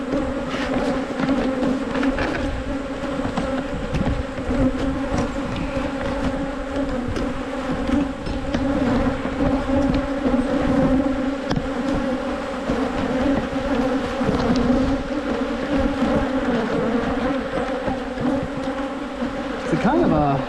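Honeybees swarm and buzz around an opened beehive during a frame inspection, a loud, dense, continuous hum close by, with someone talking now and then over it.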